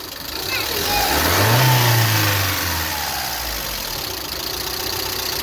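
A Daewoo Leganza engine with newly set timing chain timing revs once, its pitch climbing to a loud peak and then settling back to a steady idle, close by.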